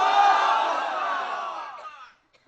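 Crowd at a Bengali Islamic sermon (waz) in Naogaon shouting the takbir response: one sustained, loud, many-voiced chant that fades out after about two seconds.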